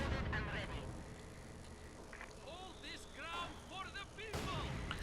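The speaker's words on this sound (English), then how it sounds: "these mortars are just brutal" 82mm mortar fire in a World War II strategy game between Wehrmacht and Soviet forces comes as quiet, distant thumps and blasts in the background, with a commentator talking over them.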